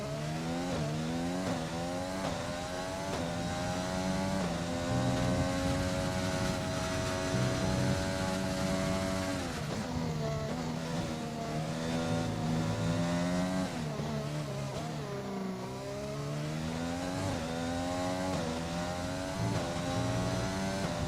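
Race cars roar through a qualifying lap in an online league racing game round set in China, with engine notes continuously rising and falling through gear changes, loud and steady for the whole stretch.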